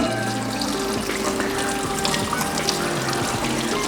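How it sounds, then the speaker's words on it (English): Cold water runs steadily from a tap onto a dirty plate, a continuous close splashing trickle with shifting tones as it strikes the surface, no voices heard. "I'm going to put the dirty plate under this cold water"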